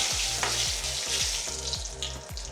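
Bay leaves, cloves, cardamom and cinnamon frying in hot oil while being stirred for an Assamese rajma curry, a steady loud sizzle with repeated scraping stir strokes at a regular rhythm, no talking.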